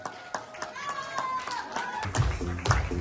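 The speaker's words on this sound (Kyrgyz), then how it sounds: "Кол чабуулар болсун." Audience at a festive live show clapping in a steady rhythm, sharp claps repeating about every quarter second with crowd noise, while a voice talks and sings over it, growing louder toward the end.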